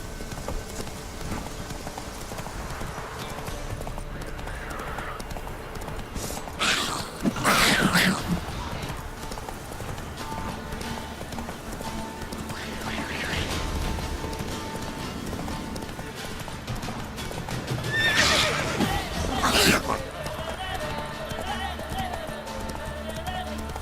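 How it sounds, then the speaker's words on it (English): Horse hooves clip-clopping at a gallop in The Witcher 3, a steady near rhythm with a couple of loud bursts of neighing and snorting, a rider calling out between them. "Whoa there, Roach"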